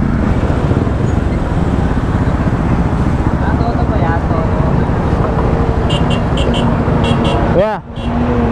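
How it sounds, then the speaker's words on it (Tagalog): Heavy Saturday road traffic in the Philippines rumbles close and continuous, with engines droning and a few short horn toots near the end. "Napaka traffic kahit araw ng Sabado."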